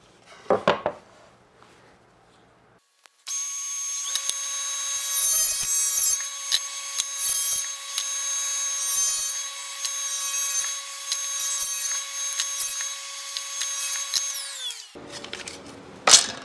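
A power saw cuts angles in dense wood, a steady high whine running for about twelve seconds with a grinding rasp, then spinning down; brief knocks and handling noises come before and after.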